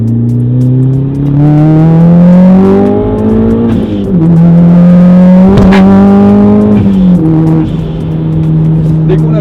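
The 2-litre four-cylinder engine of a Mitsubishi RVR Hyper Sport Gear R revs up through the gears, pitch climbing in strong surges with brief dips at each shift, loud and close.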